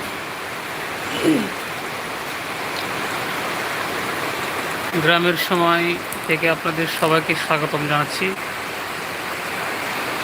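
Heavy rain pours in a steady, wide hiss throughout, with a voice speaking over it partway through.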